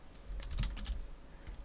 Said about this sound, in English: we're just going to go and press Control and T on our keyboard to free transform